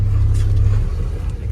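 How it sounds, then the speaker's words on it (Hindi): A car engine idles steadily right after starting, a strong low rumble close by that holds for over a second and eases slightly, with no talking over it. "गाड़ी हो गई स्टार्ट"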